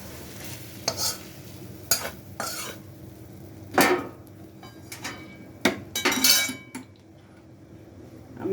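Cooked taro stolon paturi is tipped from a pan onto a plate, with scattered clinks and scrapes of metal utensils against cookware, a light sizzle between knocks, no talking.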